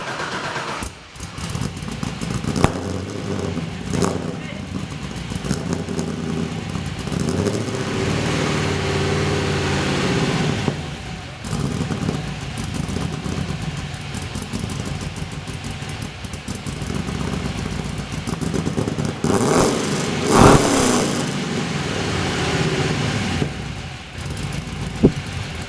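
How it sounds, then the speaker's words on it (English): A Nissan 240SX fitted with a Pandem Rocket Bunny kit and rear diffuser starts up and settles into a steady, throaty idle, with a couple of sharp revs near the middle and end; the engine is close and loud. "Here's another clip of a startup with the diffuser on the car."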